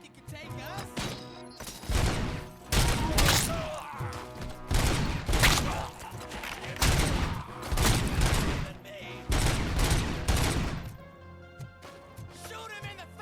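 Gunfire in the Robocop video game, loud rhythmic volleys repeating roughly every second over an intense game soundtrack, with voices mixed in.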